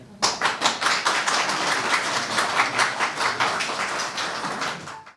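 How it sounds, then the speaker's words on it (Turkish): A small group applauds inside a CHP provincial party office, distinct individual claps in a brisk rhythm, close and fairly loud, fading out near the end. "Alkış."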